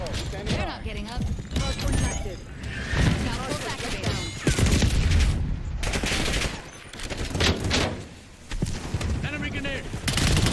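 Rapid gunfire from Call of Duty Black Ops 6 gameplay, with bursts of automatic shots and bangs. Loud and dense throughout, mixed with voices talking over it.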